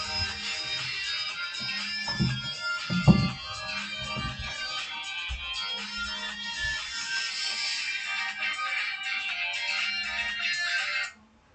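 A phone ringtone plays continuously for several seconds, a bright repeating melody that stops abruptly, with a couple of faint low sounds underneath.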